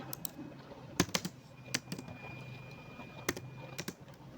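Computer keyboard typing, a few sharp separate key clicks in short bursts with pauses, close and quiet over a low room hum.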